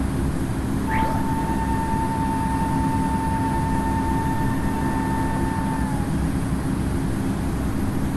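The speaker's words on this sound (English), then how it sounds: "Alright everyone, another successful takeoff. We are climbing up to our cruising altitude" An Airbus A220 climbs after takeoff in the Infinite Flight simulator, a steady, even engine drone with a faint tonal whine briefly rising over it, continuous and unchanging with no talk.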